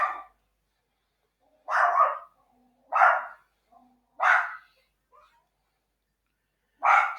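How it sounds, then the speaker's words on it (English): Four sharp barks from a single dog, spaced a second or so apart with a pause before the last, in an otherwise quiet room. "that's just my dog"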